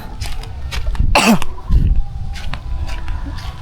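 A single harsh cough bursts out with a throaty, rasping edge, followed by a lower grunt, over steady background noise.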